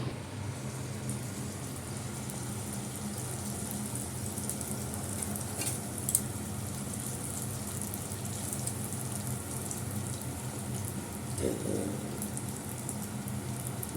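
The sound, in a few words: luchi (puffed flatbread) deep-frying in oil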